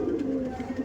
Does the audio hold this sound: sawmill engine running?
no